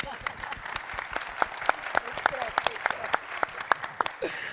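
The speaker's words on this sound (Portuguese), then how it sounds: "Vamos aplaudir essa mulher" Scattered, moderate applause from an auditorium audience at a panel discussion, with individual claps standing out as sharp separate hits rather than a dense roar, and a voice briefly heard at the very end.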